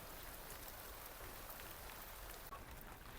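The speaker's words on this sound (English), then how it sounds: "Those ferns there are loving all this rainfall." Summer rain falls steadily on ferns and other plants in a tropical garden, a soft, even, close hiss of drops with no voices.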